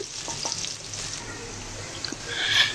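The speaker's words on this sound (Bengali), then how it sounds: "এখানে আমি এই যে ভাজি করে নিব মাছের ডিম দিয়ে করলা ভাজি করব" Bitter gourd frying with potato and fish roe in a pan, a soft continuous sizzle with occasional stirring scrapes, close and moderately quiet.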